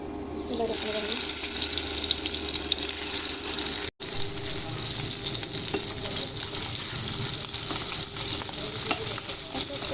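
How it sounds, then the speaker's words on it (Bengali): Small ghonia fish, coated in spices, slipping one by one into hot oil, giving a steady close sizzle and frying crackle with faint water and stirring noises, broken once by a brief silent cut. "এদিকে আমার তেল প্রায় গরম হয়ে চলে আসছে। আমি এক এক করে সবগুলো মাছ দিয়ে দেবো।"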